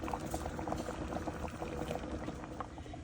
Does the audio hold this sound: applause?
no